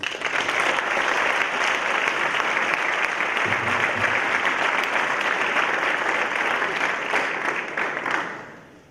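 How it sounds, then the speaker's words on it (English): A crowd at a high school athletics awards night gives a round of applause for the presenter, dense continuous clapping that holds steady, then fades out at the end. "how about one more round of applause for Mr. McGuire, please?"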